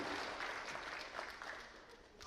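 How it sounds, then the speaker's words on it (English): Applause from a banquet audience gathered to honor athletes, a steady, fairly distant wash of many hands clapping that holds evenly for a couple of seconds without any talk over it. "give yourself a round of applause for that"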